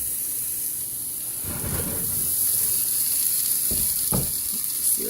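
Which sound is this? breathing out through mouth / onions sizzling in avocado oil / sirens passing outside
onions sizzling in avocado oil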